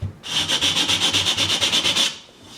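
Snare beds are cut by hand into a wooden drum shell with a quick, even run of about fifteen close rasping strokes that stop abruptly.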